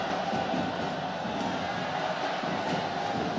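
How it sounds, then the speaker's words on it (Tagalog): A large crowd roars inside a basketball arena during an MPBL game, with a steady, dense wash of cheering that never lets up. "As you listen to this crowd roar and do the wave inside"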